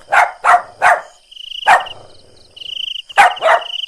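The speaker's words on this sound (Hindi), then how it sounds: "वो उसकी तरफ देखकर भौंकने लगता है" A pet dog in a Hindi horror story barks at a witch at night: about six sharp, loud barks, three in a quick run, one alone, then a closing pair, with quiet gaps and a faint high tone between them.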